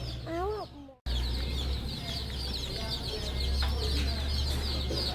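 Baby chicks cheep in a busy stream of high, rapid peeps that runs almost throughout, apart from a brief break near the start, with a low steady hum beneath. A voice is briefly heard at the very start.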